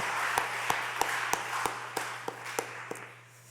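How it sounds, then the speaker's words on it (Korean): A church congregation at a Sunday afternoon service claps in thanks: a steady wash of clapping with sharper individual claps ringing out at a regular beat, no voices over it. "우리 모든 분들을 감사 박수 한번 하겠습니다"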